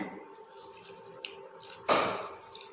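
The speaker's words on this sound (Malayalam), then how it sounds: "ഇനി ഇതിലേക്ക് നമ്മൾ എടുത്തു വെച്ച പാലിൻ്റെ പകുതി ഒഴിച്ചു കൊടുക്കാണ്" Milk poured into a vanilla cake mixture in a home kitchen, a brief soft splash of liquid near the end after a few quiet clicks and small drips.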